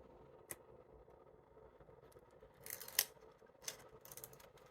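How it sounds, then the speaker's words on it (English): Screen protector film for a Pixel Watch peeled off its backing, a few brief crackling rips rising out of a quiet room near the middle and end of the clip, close and soft, with no talk. "let's give it a try. All right, so we're gonna peel one off."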